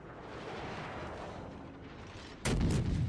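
Naval guns fire a salvo in World of Warships: a sudden loud, heavy boom with a rolling roar that cuts in after a steady engine and sea rumble.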